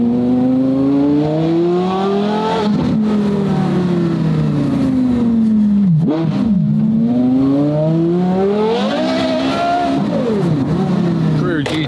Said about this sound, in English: Of the Carrera GT V10. You really can't beat the sound of this car now,